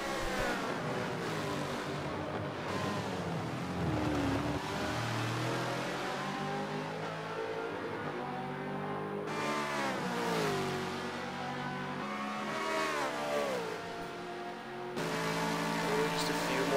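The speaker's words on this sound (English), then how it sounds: "An angry Ferrari heading down the hill of Fun." Ferrari GT race car in an endurance racing game at Bathurst, its engine revving steadily with rising and falling pitch as it runs downhill, loud and continuous with a voice talking over it.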